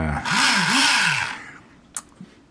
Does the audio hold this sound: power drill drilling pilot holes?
yes